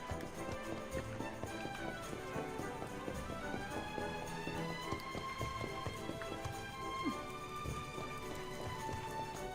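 Horse hooves clip-clop in Dragon Quest 11, a steady, busy run of hoofbeats heard over continuous game music.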